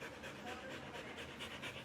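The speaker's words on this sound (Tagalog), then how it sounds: "Hingal na hingal, eh." Hershey, a dog recovering from heat stroke, pants heavily and rapidly in steady quick breaths at close range, with a faint voice in the background.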